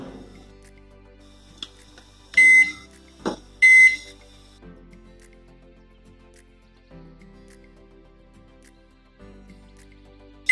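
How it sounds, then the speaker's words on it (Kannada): A microwave oven running with a lemon inside on a 10-second timer, a low quiet hum broken by a few short beeps near the start, then a steady drone. "ಇದರಲ್ಲಿ ಮೈಕ್ರೋವೇವ್ ಅಲ್ಲಿ ಪ್ಲೇಸ್ ಮಾಡಿದೀನಿ ಒಂದು 10 ಸೆಕೆಂಡ್ ಟೈಮರ್ ನ ಸೆಟ್"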